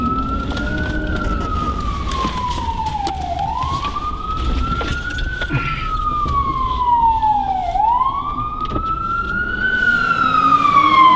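A fire engine siren wails in slow rising and falling sweeps, growing louder as it passes close by along with traffic rumble.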